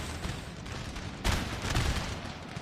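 A dense barrage of musket volleys and artillery booms rumbles through a Napoleon: Total War battle, a continuous crackling roar with a heavier burst partway through, no talking.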